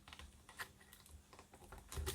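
Keys on an 11-inch MacBook Air A1370 laptop keyboard being pried apart during a keyboard replacement, giving soft scattered clicks and scrapes, faint and close, with a slightly louder click cluster at the end.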